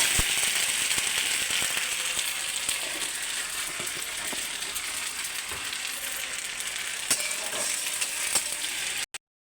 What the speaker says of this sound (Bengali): আদা রসুনের পেস্ট দিয়ে দেবো। আবার একটু লাল লাল করে ভেজে নেব